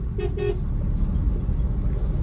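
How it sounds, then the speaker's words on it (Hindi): Two short car horn toots in quick succession over a steady low diesel engine rumble, close by, from a Chevrolet Beat Diesel. "इसका हॉर्न भी बहुत अच्छा है"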